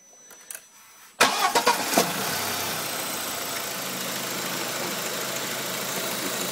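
Audi A4 fitted with a high-output alternator cranks briefly after a quiet moment, catches with a few sharp revs and settles into a steady, close idle hum.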